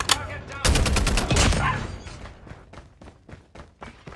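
Assault rifle fire in a shooter video game: a sharp opening shot, then a rapid automatic burst, followed by scattered single cracks and echoing distant shots, loud and close, with faint game voice chatter underneath.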